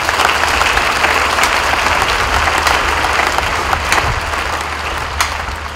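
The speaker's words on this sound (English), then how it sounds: "Please give them a round of applause." A large church audience at a Jubilee-year closing gathering claps loudly and steadily, a dense continuous wash of applause with no speech over it.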